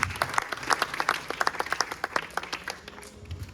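An audience at a Navratri festival event in 2023 gives a short round of applause, distinct hand claps in a quick, uneven patter that fades after a few seconds.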